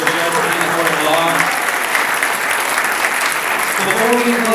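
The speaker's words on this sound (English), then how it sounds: "how about one more round of applause for all the candidates for Judge in the Court of Law" An audience at a Republican party gathering applauds candidates for judge, sustained and loud, with a voice faintly heard over it.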